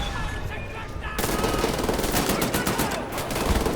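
Gunfire in Wolfenstein: The New Order, a first-person shooter: after a quieter opening, sustained rapid machine-gun bursts break out close and loud, rattling on steadily to the end.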